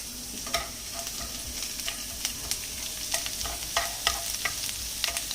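Garlic fries in hot oil on a tawa, a steady close sizzle punctuated by frequent short crackles and light scraping stirs.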